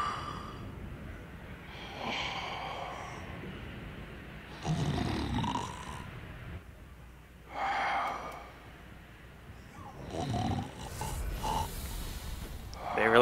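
A sleeping character in the video game Dark Souls 3 snores in slow, deep, rasping breaths, each swelling and fading in a steady rhythm at moderate volume, with no talk over it.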